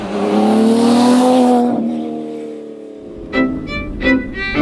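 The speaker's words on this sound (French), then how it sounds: "Un V12 Ferrari, l'assurance d'une journée réussie." Classic Ferrari with a V12 engine passing by at the Tour Auto 2024 at Brive airport, a loud high revving wail that fades away, followed by two short throttle blips from another car.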